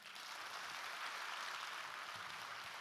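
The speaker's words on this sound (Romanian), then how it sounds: "Le mai aplaudăm o dată?" Audience applause after a traditional Romanian Christmas carol performance by a women's vocal group at a county gala in Alba, a steady dense clapping that fills the whole moment without pause.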